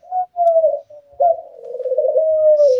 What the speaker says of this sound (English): Birds, just chill, bros.